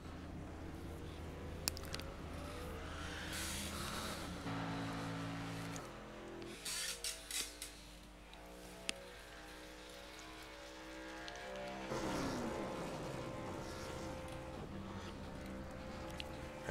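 Race cars circling Talladega Speedway in a sim racing game, engine drones layered and shifting in pitch as cars pass and wind down, steady mid-level noise throughout.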